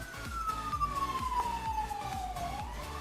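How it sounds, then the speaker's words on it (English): A fire engine siren from a nearby fire station wails in a slow, steady sweep that falls in pitch, moderately loud and close, over a low, pulsing rumble of traffic, with no speech. "Always sounds like I'm in the ghetto because I'm so close to a fire station."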